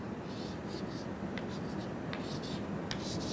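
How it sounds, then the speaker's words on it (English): Chalk scratches and taps on a classroom blackboard in short strokes over a steady room hiss, close and fairly soft, with faint voice-like sound in the background. "now it's very simple to write on the blackboard"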